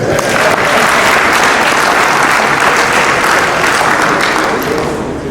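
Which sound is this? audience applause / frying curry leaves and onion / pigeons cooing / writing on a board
audience applause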